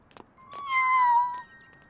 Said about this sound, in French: Oh, un chaton.